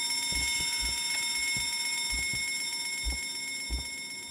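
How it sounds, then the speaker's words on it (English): A bell ringing in a multiplayer video game, a series of short metallic strikes repeating at an uneven pace over a steady high background tone, fairly clear and close. "Someone ringing the bell?"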